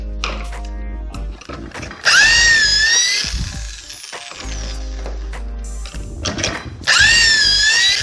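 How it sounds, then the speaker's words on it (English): A power drill whines in several bursts, rising and falling in pitch as it bores pocket screw holes into wood, with short pauses between holes. "So I'll drill 3 holes in each."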